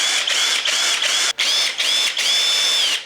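A Ryobi cordless impact driver whirs loudly in several bursts, its high whine rising and settling with brief pauses between runs.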